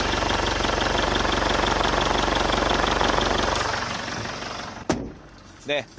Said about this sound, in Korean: 지금 바로 엔진 소리 한번 자세하게 들려드릴게요.